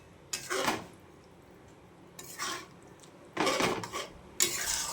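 Gobindobhog rice is sautéed with spices in a pan for a fish-head rice dish, heard as four separate bursts of scraping and stirring clatter against the pan with quiet gaps between them.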